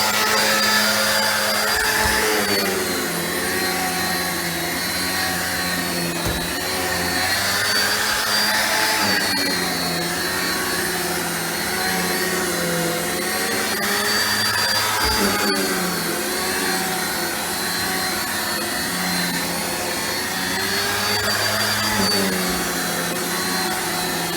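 A Rainbow D3c vacuum cleaner runs steadily while cleaning stairs, a loud continuous motor whine with slight pitch shifts and occasional bumps of the hose and tool against the steps.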